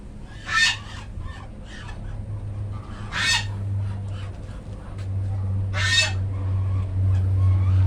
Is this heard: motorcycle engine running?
no